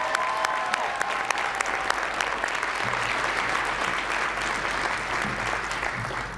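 Clapping fills a hall for a Youth of the Year honoree at a Boys & Girls Clubs gala, steady moderate applause with a low hum underneath, a few sharper claps early on and a faint voice later.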